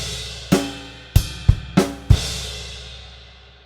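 A drum kit plays a syncopated bar: five sharp hits spaced unevenly over a few seconds, each ringing out, close and fairly loud, with no talking.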